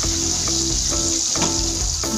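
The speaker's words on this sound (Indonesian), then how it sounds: "Nah, ini saya masukkan mentega" Butter melting into a hot pan alongside frying shrimp adds a continuous close sizzle and soft crackling, a dense hiss with small pops throughout.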